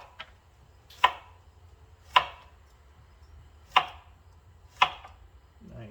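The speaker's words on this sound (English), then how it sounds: "I'm just gonna cut these really thin slices" A knife chops through food on a board, thin slices cut one at a time with four sharp, spaced knocks against a quiet kitchen background.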